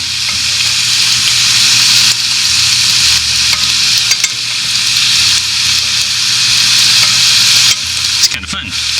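Mini churros frying in a well-filled pot of hot oil, a loud continuous bubbling sizzle with occasional clicks and stirring knocks, no speech.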